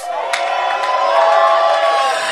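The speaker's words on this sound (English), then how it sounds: "Can you stand up, clap, and shout?" A church congregation raises a loud, sustained roar of shouting and cheering voices, with whoops over a dense crowd wash and only faint hints of clapping.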